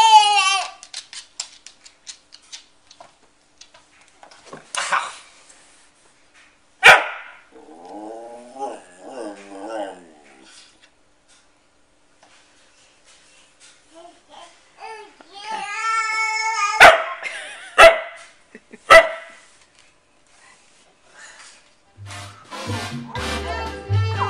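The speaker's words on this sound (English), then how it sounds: "It's a puppy." A puppy gives several sharp, scattered barks and low growls, close by, with quiet gaps between them. Baby babbling and other voices come and go in between.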